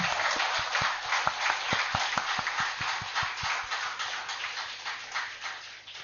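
An audience applauding in praise of Kashi city, fairly faint dense clapping with a steady beat of thuds running through it, fading slightly toward the end.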